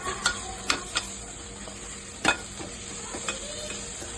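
Chili powder is stirred into hot oil for a dried shrimp and gongura curry, with a soft continuous sizzle and a few sharp spatula scrapes against the pan, close up and without voices.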